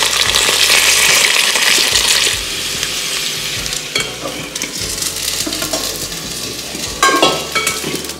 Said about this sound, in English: 爆香啲洋蔥、紅蔥頭